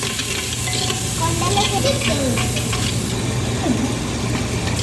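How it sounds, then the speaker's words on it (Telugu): Onions sizzle steadily in hot oil while being stirred, a dense continuous frying hiss close up with faint scraping of a utensil, no voices. "ఆయిల్ వేడైనాక ఆనియన్స్ వేసుకోవాలి ఆనియన్స్ వేసుకొని కలిపేసుకుందాం"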